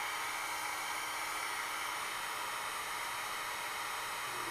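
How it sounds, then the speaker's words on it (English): A heat gun blows steadily and evenly throughout while warming the trunk lid of a 1955 Buick Century during a trunk lid stop repair, a constant near hiss of hot air with no talk. "then we're going to get the heat gun out, and we'll heat her up"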